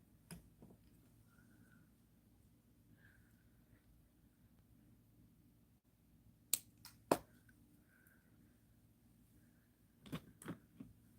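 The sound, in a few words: cutting off extra wire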